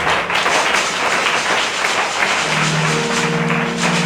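Church congregation applauding and acclaiming the Lord during a Sunday service, a dense, steady wash of clapping with tonal voices and cheering rising beneath it partway through.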